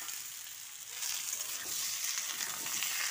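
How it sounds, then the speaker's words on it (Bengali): Cauliflower soaked in hot water is dropped into a pan of frying potatoes, and the hiss jumps to a louder, dense, steady sizzle that carries on alone. "এর মধ্যে গরম জলে ভিজিয়ে রাখা ফুলকপিটা এখন দিয়ে দিচ্ছি"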